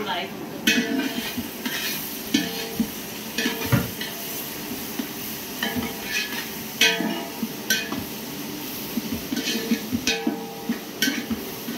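Tomatoes tossed into a hot pan for upma sizzle and fry while a utensil scrapes and stirs against the metal in repeated clanks, a steady close kitchen clatter with no talk.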